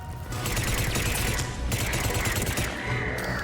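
Rapid bursts of particle cannon gunfire in the Mass Effect 3 video game, crackling in dense continuous volleys with brief breaks, loud and close.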